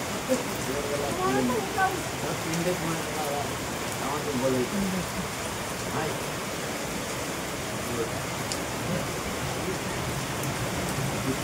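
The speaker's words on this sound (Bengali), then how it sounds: "কত জোরে জোরে বৃষ্টি হচ্ছে" Heavy rain pours down steadily as a dense, even hiss that fills the whole stretch, with faint voices mixed in underneath.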